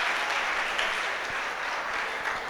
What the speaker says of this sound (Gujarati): આ છોકરી માટે જોરદારની તાળી પાડો